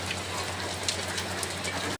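Rain falls steadily, a continuous hiss of drops on surfaces at moderate loudness with a low hum beneath, cutting off abruptly just before the end.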